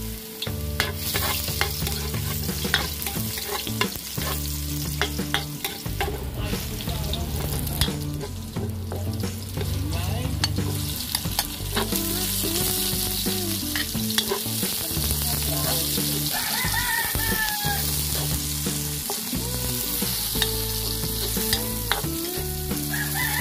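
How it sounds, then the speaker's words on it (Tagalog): Onion and garlic sautéing in a pan for a merienda of miki bihon, with a loud continuous sizzle and frequent clattering stirs close by and no talking. "Gigisa lang muna tayo ng sibuyas at bawang."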